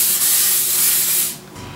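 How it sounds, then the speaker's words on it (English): A short, steady hiss of an aerosol cooking spray sounds up close for a second or so, then cuts off. "we're now going to spray these with a cooking spray"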